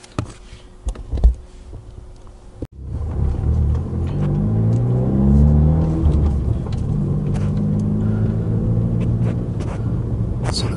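Volkswagen MK7 GTI with a misfire after running E85, heard from inside as a few clunks give way to a loud engine rumble that rises and shifts through gears while accelerating.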